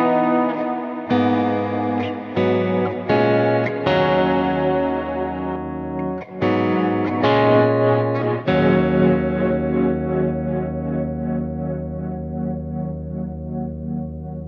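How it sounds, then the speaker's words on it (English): Electric guitar chords played through the GFI System Skylar pedal's Spatium reverb, several strummed chords ringing out and then a long shimmering wash of reverb that sustains and slowly fades, with no talk. "And I know I've got the Spatium reverb."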